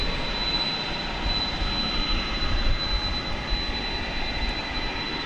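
A DHL Boeing 767 operated by ABX roars at night at DFW Airport, a loud, steady jet engine rumble with a thin whine holding through the whole stretch, no voices.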